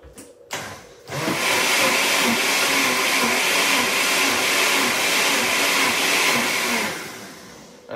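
A kitchen blender whirs loudly and steadily, mixing milk with oats for a Jamaican-style oxtail and fried chicken meal, with a brief pause after a short start before the motor runs continuously for several seconds and then winds down.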